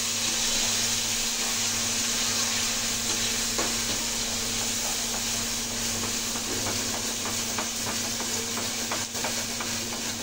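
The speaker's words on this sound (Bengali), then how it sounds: "তেল গরম হয়ে গেছে কড়াইতে জিরে দিয়ে দিই। ঠিক আছে, তারপরে যে বাটা মশলাটা দিয়ে দিই।" Cumin and ground spice paste frying in hot oil in a wok, a dense, steady sizzle with a constant background hum and occasional stirring clicks throughout.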